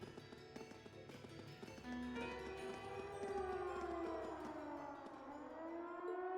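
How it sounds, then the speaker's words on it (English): Wailing siren from a fort in the video game Trails of Cold Steel, rising and falling in long sweeping tones that swell louder midway and hold, over quieter game sounds like footsteps. "Sounds like a siren. This should be coming from the fort."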